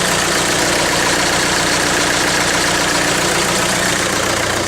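Diesel engine of a Mitsubishi Canter 4WD truck idling steadily, a dense continuous rumble with a faint mechanical knock, close and constant throughout with no talking.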